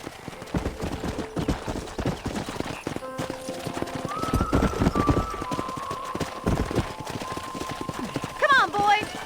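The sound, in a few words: horses' hooves clip-clopping, from the video game Red Dead Redemption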